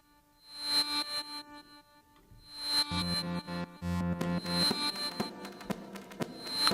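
A reversed bell-like synth processed with delay and erosion noise, forming repeated swelling harmonic tones with echoing tails and a gritty noisy edge that build in layers, moderately quiet overall.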